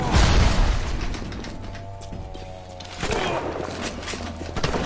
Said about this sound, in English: He's just taking shotgun shells to the back.